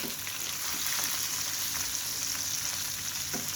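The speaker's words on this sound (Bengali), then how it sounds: "মাছ এক পিঠ ভাজা হয়ে গেছে" Small punti fish frying in hot oil in a pan after being flipped, a steady close sizzle and crackle with faint pops running throughout, no voices.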